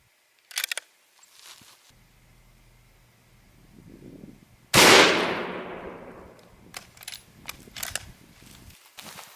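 A .223 Savage Model 110 rifle with a 22-inch barrel fires one loud, sharp shot into a truck door, its blast decaying over about a second, with faint handling noises before and after.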